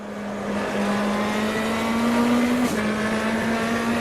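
A Metalmoro race car engine in the racing game Automobilista drones at a high, steady pitch that climbs gradually as it accelerates, with a brief gear shift midway.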